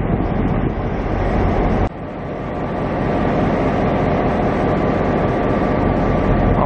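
A loud, steady rumble of the Spirit of the Outback passenger train departing Brisbane, heavy low-pitched engine and wheel noise building continuously with no voices.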